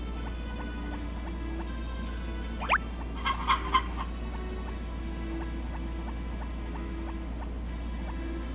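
Chickens clucking in the farming video game Harvest Moon Back to Nature, a few short clucks standing out over a steady hum of background game music.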